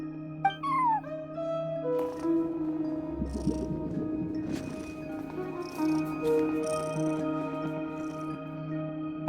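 A cat in Genshin Impact gives a few short meows over a soft, steady backdrop of sustained game music tones.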